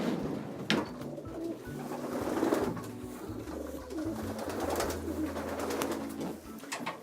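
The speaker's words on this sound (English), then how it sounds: "Great pigeon." A racing pigeon hen in a Belgian loft coos in soft, low, repeated murmurs, close by and alone without talk.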